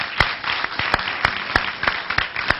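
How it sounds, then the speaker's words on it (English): Audience applause at the Worldhouse event at Morehouse College in April 2008: sparse, sharp hand claps sounding at fairly regular intervals over a soft, continuous wash of clapping, with no voices. "Let's give them all another round of applause."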